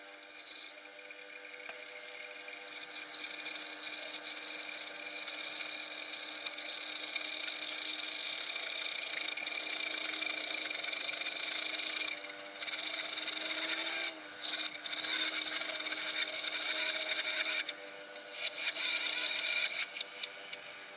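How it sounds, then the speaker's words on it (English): A bandsaw struggles through a very thick block of wood, giving a sustained whining, grinding cut that runs steadily for about twenty seconds with a few brief dips, heard close and alone. "I think I found the limit of how thick my bandsaw can cut."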